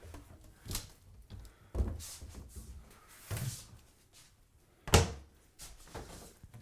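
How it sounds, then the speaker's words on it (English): Cabinet doors in a home interior being opened and shut during an inspection, a series of separate wooden thunks and soft clacks spaced a second or two apart, close and moderately loud, with faint background noise between. "we're gonna check our cabinet doors, things like this"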